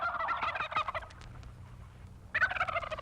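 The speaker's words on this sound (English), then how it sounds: "The turkeys are loose in Custer County." A pair of loud turkey gobbles used as a radio station sound effect, one rattling burst at the start and another after a short quiet gap.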